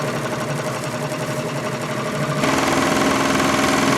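Singer 147-81 industrial chainstitch sewing machine running slowly with the clutch feathered, a steady mechanical whirring hum with fine stitch vibration that grows slightly louder and busier midway, heard alone without talk.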